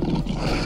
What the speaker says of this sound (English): Lions have significant roars.